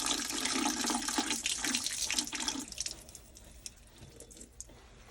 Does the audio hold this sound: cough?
no